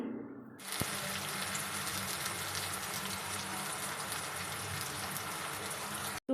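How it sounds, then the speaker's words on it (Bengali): Sliced potatoes fry in oil, giving a steady, loud, broadband hiss and crackle that runs almost unbroken for about six seconds, with no voices over it. "আলু কাটা ভাজা করে নিই"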